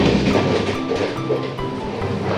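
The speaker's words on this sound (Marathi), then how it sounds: "कारण ट्रेन पूर्ण हालत आहे" A moving train rumbles and rattles loudly, with continuous clattering of carriages close by.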